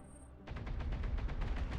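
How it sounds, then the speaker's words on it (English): Rapid autocannon fire in the game BattleTech, a fast burst of repeated heavy shots thudding in quick rhythm after a brief quiet moment, continuing to the end. "the autocannon rounds coming hot and heavy as Bjorn takes one straight to the chest"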